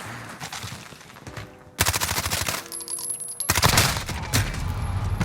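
Shotgun blasts from Call of Duty: Modern Warfare, fired at practice bots, come as a few loud, sharp, close bursts with dense rattling fire between them, and no talking.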